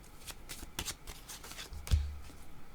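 Tarot cards are shuffled and drawn by hand, a quiet series of soft riffling flutters and card slaps ending in one sharper tap, close and alone without talk.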